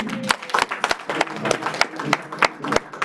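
Applause at a tenth-anniversary celebration event: scattered, uneven clapping from a modest crowd, with several sharp close claps standing out over a softer background patter.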